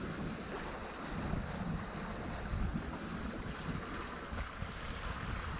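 Steady wind rushing over a sailboat on Lake Michigan, blowing from the south or southwest, with water lapping and low rumbling microphone buffeting throughout, fairly loud and continuous with no talking.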